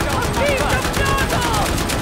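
Rapid, continuous video game gunfire rattles in a dense, evenly pulsing stream of close, loud shots, with shouting voices layered over the barrage.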